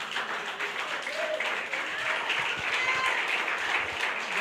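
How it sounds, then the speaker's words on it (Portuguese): Church congregation applauding the Lord during a service, a steady wash of many hands clapping at moderate level, with faint voices mixed in. "Você pode aplaudir ao Senhor?"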